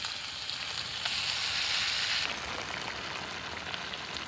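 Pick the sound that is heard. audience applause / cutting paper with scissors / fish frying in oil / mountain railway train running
fish frying in oil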